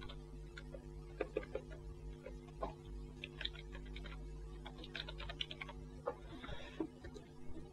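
Irregular computer keyboard typing while a name is entered in Photoshop's text tool, with crisp key clicks in uneven bursts over a steady low electrical hum.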